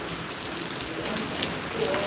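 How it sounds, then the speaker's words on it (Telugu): Light rain falls steadily in Zaheerabad, a soft continuous hiss of drizzle on surfaces, even in level throughout with no voices. "ఇక్కడైతే వర్షం తగ్గుముఖం అయితే పట్టిందని చెప్పొచ్చు కాకపోతే సన్నం అయితే రాలుతుంది"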